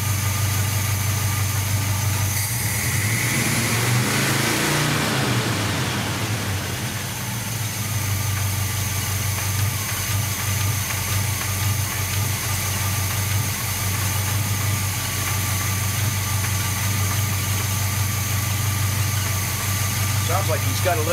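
A 1978 Chevy C-10 engine idles steadily after carburetor tuning, with a faint bottom-end clatter in a continuous close, loud rumble; a brief whooshing swell rises early on.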